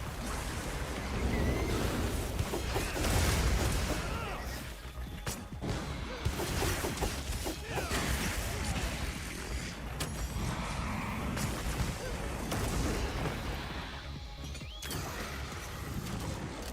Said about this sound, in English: Oh my god, the carpet bombing.